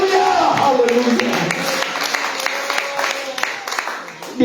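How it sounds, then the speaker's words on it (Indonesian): Congregation clapping in a church during a worship service, a dense continuous patter of many hands filling the space with crowd noise, starting full and gradually thinning toward the end. "Tepuk tangan bagi Tuhan Yesus"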